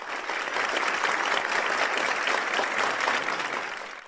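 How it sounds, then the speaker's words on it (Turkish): Colleagues at a doctors' protest give a long burst of dense, steady clapping from a crowd. It is moderately loud and unbroken for about four seconds, then thins out at the end. "Mesai arkadaşları alkışlı protesto düzenledi"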